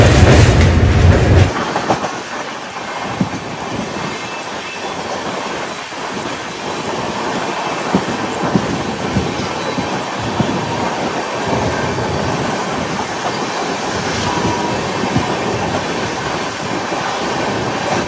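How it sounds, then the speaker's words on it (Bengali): Sealdah Puri Duronto Express runs at speed, heard from inside the coach as a loud, continuous roar with rhythmic wheel clatter, following a brief heavier burst at the start. "আর ট্রেন ভালো পিকআপে চলছে কিন্তু।"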